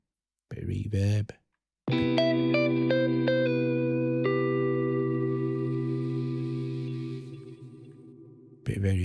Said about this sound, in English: Give it a bit of gain, a bit of reverb.